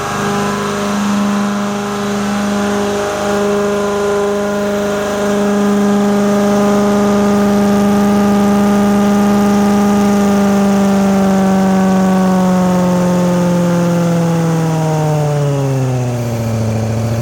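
A 2015 Amtex Inferno 2747 direct drive engine runs loud and steady close by, its strong harmonic drone holding level before the pitch drops near the end as the RPM is lowered.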